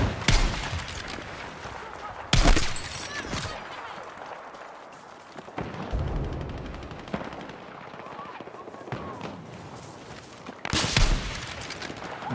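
Gunfire from a gun in the video game Battlefield 6, fired at roughly 80 to 110 meters: a few loud, sharp shots spaced several seconds apart over a steady game background, with someone talking in between.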